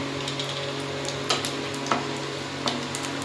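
Dried red chilli, whole cumin and garam masala frying in hot oil for a fish curry, giving a steady crackling sizzle with scattered pops and small clicks, close by, no talk.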